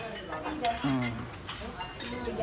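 Plates and cutlery clink and rattle softly as someone sorts through dishes looking for a plate, with a few brighter chinks standing out among the low clatter.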